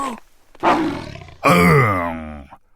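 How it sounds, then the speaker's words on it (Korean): A tiger in a children's folk tale gives two long, loud, rumbling roars, the second swelling and sustained before fading, with no talk over it. "동짓날 밤이 되자 호랑이가 할머니 집 마당에 어슬렁어슬렁 들어섰어."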